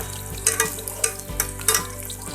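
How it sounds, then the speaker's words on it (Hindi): Onions frying in oil in a pan until golden brown give a steady sizzle, broken by a run of sharp scraping stirs at an uneven rhythm, close and fairly loud with no talking. "थोड़ा सा ऑयल ऐड किया। ये हमारा प्याज गोल्डन ब्राउन हो रहा है"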